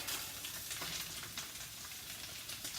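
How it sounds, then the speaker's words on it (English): Bok choy mixture sizzling steadily in a hot pan, a continuous close crackling hiss with small pops and no voices. "So first, we're going to add the bok choy mixture"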